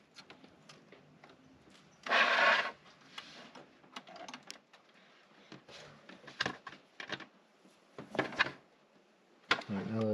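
Rubber bands being pulled off a boxed Maisto/Bburago white Lamborghini Sian FKP 37 toy car, with close cardboard rubs, snaps and rustles in irregular bursts and one longer scraping rustle early on.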